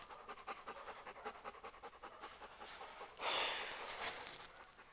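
A dog panting in a muddy ravine, with quick, steady rhythmic breaths close by but faint, and a brief louder burst of breath near the end.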